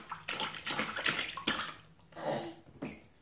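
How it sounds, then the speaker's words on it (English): A baby splashes in bathwater, sloshing in irregular bursts of splashes close by, with no talking. "This is splashing."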